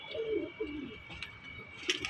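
Domestic Malwai pigeons from a breeding loft coo softly in a low warbling rhythm, faint and close, with a thin steady high tone and light background noise.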